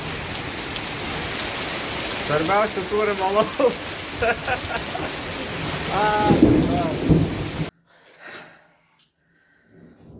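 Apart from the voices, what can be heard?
heavy rain with thunder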